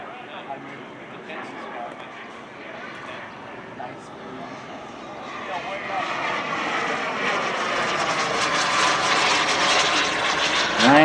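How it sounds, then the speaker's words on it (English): A model jet flown by a club pilot at an aero club air show whooshes past, its engine roar swelling from a moderate hum to a loud rushing pass toward the end, with a voice talking over it. "Dave Murray is flying this jet."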